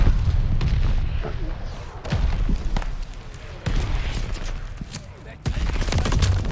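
Grenade explosions and bursts of gunfire in a loud, continuous barrage of repeated booms and crackling shots, with a few sharper blasts standing out.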